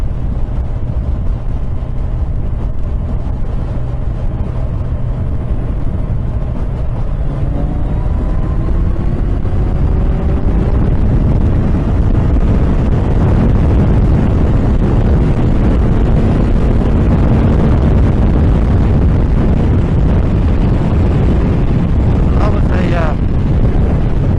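A 2017 Kawasaki Z1000SX motorcycle engine pulls hard through a fifth-gear overtake on the road, a loud low roar rising in pitch under heavy wind buffeting on the microphone.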